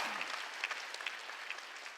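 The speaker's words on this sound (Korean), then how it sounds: "두 손 박수 치라고 이때 깨달은 사람들" Applause from a church congregation during a Sunday worship service, a steady patter of many hands clapping at a moderate distance, fairly faint and continuous throughout.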